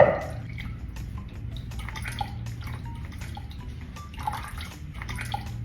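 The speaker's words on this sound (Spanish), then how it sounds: "Sácale bien todo el agua con bastante fuerza." Water is wrung out of grated vegetables by squeezing them hard in a cloth for a vegetable quiche, giving quiet, steady trickling and scattered drips up close.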